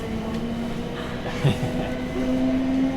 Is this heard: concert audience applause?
no